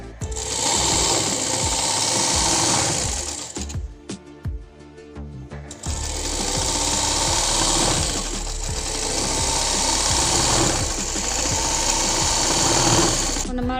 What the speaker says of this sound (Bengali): নিয়ে এভাবে ঘুরে লম্বা সেলাইটা করে নেবেন